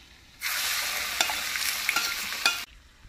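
Fenugreek-seed tempering sizzles in hot oil, a loud, steady hiss that starts abruptly, holds for about two seconds with a few crackles, then cuts off.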